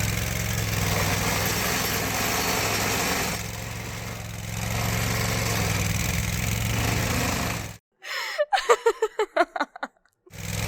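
A cable burying machine's small engine runs steadily and loud for several seconds, then cuts out abruptly, followed by a brief series of rapid sharp knocks and clatter.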